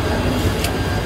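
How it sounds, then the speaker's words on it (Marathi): A train pulling away near Kalyan station, heard from inside by the door as a steady, loud broadband rumble with a brief hiss partway through. "ट्रेन चालू झाली आहे."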